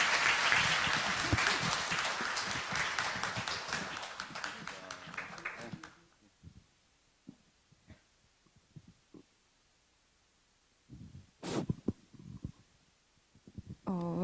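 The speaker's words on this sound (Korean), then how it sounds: "큰 박수 부탁드립니다" A crowd at a Korean talk concert applauding loudly for several seconds, the clapping fading out, followed by quiet stretches with brief scattered noises and a short burst near the end.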